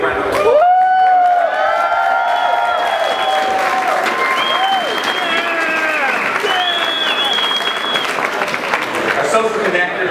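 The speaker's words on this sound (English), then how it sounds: "A big round of applause." A large crowd applauds loudly and steadily at a Solavei corporate marketplace event in Seattle, with sustained clapping for about ten seconds and music playing underneath.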